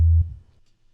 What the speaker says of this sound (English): So we've got a sine wave